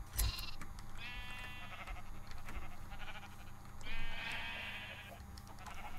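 Sheep in a modded video game bleat twice in long wavering calls, the second louder, over a steady low background hum.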